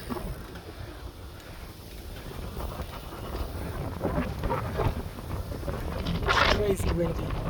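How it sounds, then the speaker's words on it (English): Strong wind rushes past the microphone while riding an ElliptiGO stand-up bike toward Amsterdam, a continuous rumbling buffet that grows louder and gustier toward the end. "Crazy windy"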